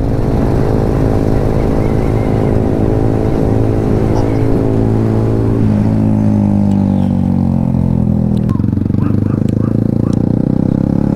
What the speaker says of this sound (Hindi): एग्जॉस्ट का पावर है गाइस, एग्जॉस्ट का भाई एकदम सुपर हीरो